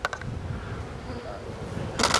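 Honey bees at a beehive on Kangaroo Island, a steady low buzzing hum filling the background, with brief clicking and rattling sounds near the start and end.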